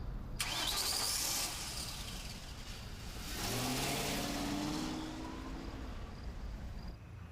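A car engine turns over and starts, then settles into a steady mid-pitched running hum with a brief rise in revs, heard close with no one talking.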